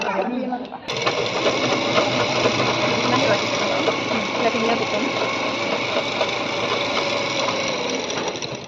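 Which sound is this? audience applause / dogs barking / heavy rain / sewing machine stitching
sewing machine stitching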